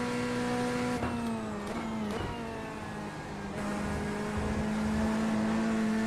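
GT3 race car engine revving at Road America in iRacing, loud and close, pitch climbing through gears with quick shift drops, then dipping and rising again, no talking.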